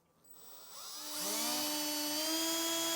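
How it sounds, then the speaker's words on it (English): A power drill spins up and runs a small pilot bit through a 2023 Jeep Gladiator body panel while installing an ARB Safari off-road snorkel, a rising high-pitched whine that settles into a steady loud drone as the bit cuts, no voices. "A small drill bit will go through here and allow us to enlarge it with a 5mm drill bit later on."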